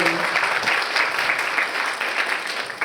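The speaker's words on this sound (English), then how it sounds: "We give very long another round of applause" A conference hall audience at a security conference breaks into steady, dense applause that holds evenly for the full stretch, with a faint voice briefly audible underneath.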